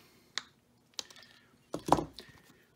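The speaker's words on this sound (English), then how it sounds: "I usually just take my shears here, my lead shears, and just cut them at a little 45s here." Lead shears snip the edges of lead came for a leaded glass solar lantern, giving a few sharp, isolated crunching clicks with quiet gaps between, the last cut longer and louder, close by and without talk.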